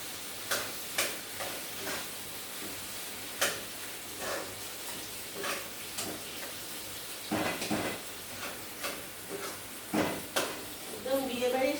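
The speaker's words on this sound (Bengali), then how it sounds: "আমি চিনিটা দিয়ে দিচ্ছি। এখন আমি এটাকে নাড়াবো।" Tomato chutney with sugar stirred in a pan, a spoon scraping and knocking in irregular strokes over a soft background sizzle, with a few louder clatters toward the end.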